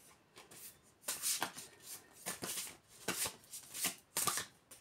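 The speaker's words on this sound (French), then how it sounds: "Elles ne sont pas évidentes à brasser. Parce qu'elles sont très très grandes." Large oracle cards are shuffled by hand in several separate riffling bursts, soft and near in a quiet room, each lasting about half a second.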